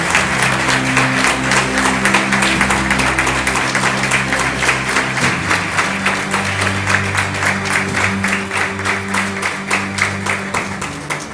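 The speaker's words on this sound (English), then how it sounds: "one last time, give them a round of applause for their enthralling performance" Sustained applause from a conference audience after a dance performance at a women chartered accountants' conference opening ceremony, dense and loud throughout with a faint low hum beneath the clapping.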